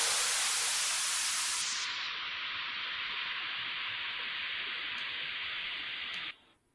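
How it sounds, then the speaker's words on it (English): White noise low-pass filtered at 3 kHz for a telephone-like effect: a steady, even hiss that loses its upper sizzle early on, then holds alone before cutting off abruptly near the end. "if I change this white noise and low pass filter it at 3 kilohertz, it will sound a bit like it's been passed through a telephone system"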